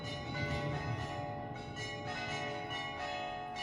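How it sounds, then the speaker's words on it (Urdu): Church bells ring continuously with layered sustained tones, a steady moderately distant peal that holds its level throughout with no voices over it. "لگتا ہے گھنٹیاں لگتا ہے ختم ہو رہی ہیں"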